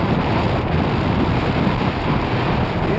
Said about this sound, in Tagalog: Masarap ng hangin, ang lamig.